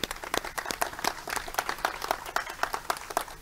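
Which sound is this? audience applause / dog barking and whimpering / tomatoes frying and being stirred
audience applause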